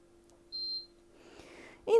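A Transa Electronics planetary mixer's timer button gives one short, clear, high electronic beep, followed by faint rustling handling noise in an otherwise quiet room.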